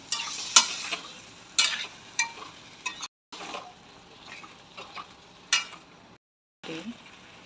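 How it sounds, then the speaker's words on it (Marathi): Tinda (round gourd) and chana dal stirred and frying in a pan, sharp scraping clicks of the spatula at an irregular rhythm over a light sizzle, close by, with brief silent gaps. "चण्याची डाळ छान प्रकारे मिक्स करून घेतली आता त्याच्यात आपण ढेमसे टाकून घेऊ"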